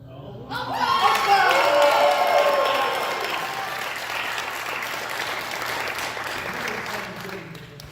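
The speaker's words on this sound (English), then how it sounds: "leading you to erupt in spontaneous applause" Audience applause breaks out after a fire-breathing stunt at a live show, a loud swelling wash of clapping that peaks early and then thins, with a voice talking over it at the start.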